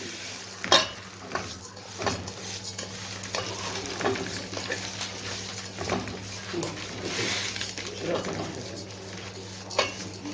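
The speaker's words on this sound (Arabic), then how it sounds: "هحمر الشعريه وبعد كده هنزل بالرز بتاعي عليها" Vermicelli fries in hot oil and a spoonful of ghee for Egyptian koshari, giving a steady close sizzle broken by sharp scrapes and clinks of a spoon stirring against the pot.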